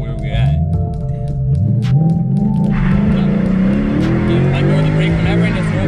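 A car revving hard with tires spinning during burnout practice, a loud sustained engine drone rising in pitch over a gritty tire roar, with people talking close by throughout.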